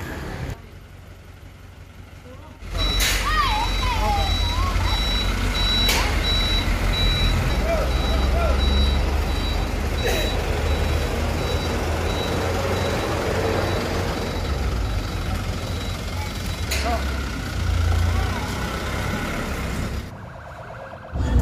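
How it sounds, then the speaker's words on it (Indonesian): An armored tactical vehicle arrives carrying a football team, its steady high reversing beeps repeating over a loud diesel engine rumble, with crowd noise and distant voices around it. "Mereka menggunakan mobil rantis ya."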